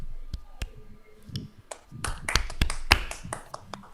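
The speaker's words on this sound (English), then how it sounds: "I would ask everybody to unmute their mics and join me in a round of applause." Virtual round of applause over unmuted microphones after an online talk: scattered, uneven claps and taps from several remote participants, sparse at first and then thickening into a brief, patchy burst.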